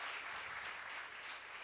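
Audience applause at the ETPrime Women Leadership Awards 2019, a dense, steady wash of many hands clapping, fairly faint and heard alone.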